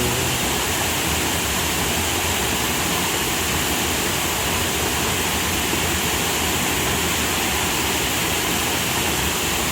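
Upper falls at Gozalandia in Puerto Rico pour in a steady, loud broadband roar of falling water that fills the whole stretch without pause, with no voices over it.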